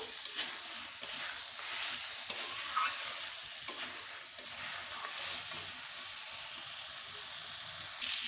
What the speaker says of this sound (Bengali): মেখে রাখা ডালগুলো ডালগুলোকে একটু নেড়ে চেড়ে জল দিয়ে দেবো ডালগুলোকে আমি একটু ভালোভাবে কষে নেবো